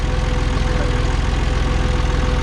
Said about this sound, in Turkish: Traktör kendini ileri doğru itmeye başlıyor.